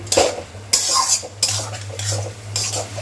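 A utensil stirs and scrapes chicken, corn, vegetables and egg with soy and tomato sauces in a pan for Hakka noodles, in repeated strokes of clinking and scraping over a low, steady hum.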